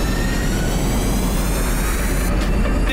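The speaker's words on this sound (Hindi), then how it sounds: "लगता है कार फ्लाई करने के लिए रेडी है।" A car engine roars steadily and loudly as the car readies for flight in a cartoon scene, a dense, jet-like rushing drone with no pauses and no talking.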